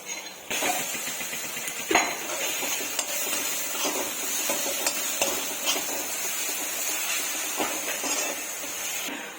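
Ginger garlic paste is stirred in a cooking pan at a village-style cookstove, with continuous sizzling broken by repeated scraping clicks and knocks of the spoon against the pan.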